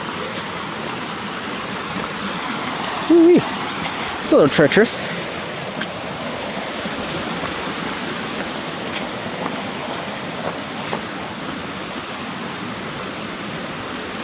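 A small creek beside the Little Elk Creek hiking trail rushes as a steady, broad wash of flowing water, loud and constant, with a brief spoken exclamation and a few footstep knocks near the start.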